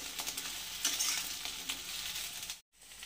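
Eggplant pieces fry in hot oil over a high gas flame, giving a bright, close crackling sizzle that is broken by stirring and cuts out briefly near the end.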